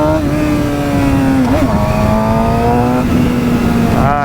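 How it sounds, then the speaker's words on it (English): A motorcycle engine revs hard for a wheelie on a good road, its rising and falling harmonic whine loud and continuous with a brief dip mid-way and a sharp rev burst at the end, wind noise throughout. "I had to try to do a wheelie here"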